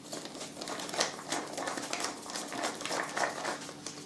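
A thin plastic produce bag is laid over homemade carp-fishing boilies, crinkling and rustling steadily in close, busy crackles with no talking.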